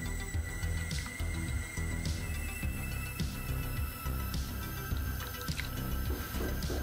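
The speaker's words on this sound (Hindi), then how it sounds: "एक बाउल में पानी लेकर आप इसको वॉश कर लें।" Face pack being washed off with water scooped from a bowl: soft, close splashes and drips repeating in an uneven rhythm, quiet and alone without speech.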